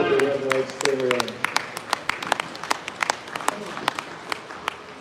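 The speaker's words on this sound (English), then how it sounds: "let's give this class efforts a round of applause" Scattered applause from the crowd at a spring Milking Shorthorn cattle show in New York, sparse distinct claps spread through the moment, with a voice over a loudspeaker at the start.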